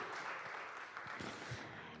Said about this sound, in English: So why don't we welcome him with a big round of applause.